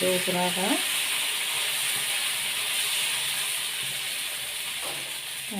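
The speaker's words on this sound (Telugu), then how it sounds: "ఇప్పుడు దీన్ని పెనం మీద పోసుకొని మన దోశలాగా తిప్పుకోవాలి" Mung bean pesarattu batter hissing steadily on a hot griddle, a broad continuous sizzle with a brief voice at the start and another faint utterance near the end.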